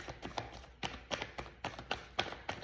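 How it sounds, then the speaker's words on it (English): Tarot card deck being shuffled, a series of quiet riffling taps and brushes in an irregular rhythm, close and soft with no talk. "2 more shuffles."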